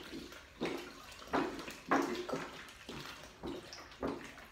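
Distilled water from a one-gallon jug pours into a pot in repeated glugging surges, each gush roughly every half second, close and moderately quiet.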